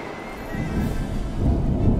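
Thunderstorm in the video game Smalland: a steady, close, low rumble of thunder that swells toward the end, with a rain-like hiss beneath it and no voices.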